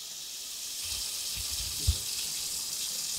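Water running from a tap during a water-stop valve test, a steady high hiss of flow with a few low knocks and a brief thud near the end.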